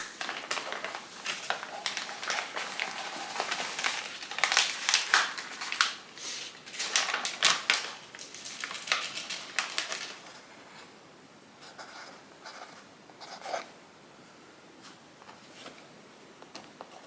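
Small dry pieces of oboi rattle and clatter into a jar in a kitchen, a run of close, crisp ticking pours that thin out into sparse clicks toward the end.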